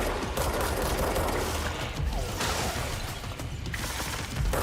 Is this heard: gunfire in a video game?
yes